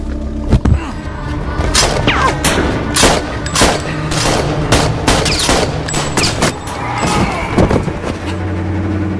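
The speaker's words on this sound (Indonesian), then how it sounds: "para penjaga yang melepaskan tembakan" Gunfire from guards in an action film, a fusillade of sharp, loud shots and thuds in rapid irregular bursts, mixed with car sounds and a dense cinematic background throughout.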